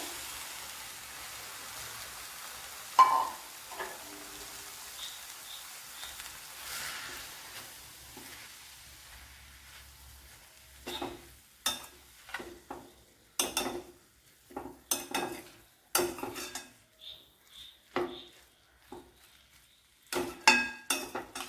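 Ivy gourd (kovakka) stir-fried in a pan Kerala style, with a soft sizzle and a series of sharp scraping and clinking stirring strokes against the pan that grow more frequent in the second half.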